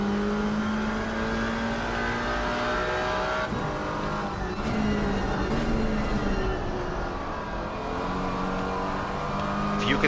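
GT4 race car passing at Watkins Glen in a multiclass racing video game, a steady droning engine whine that rises and shifts pitch through the gears, heard moderately near against continuous track noise.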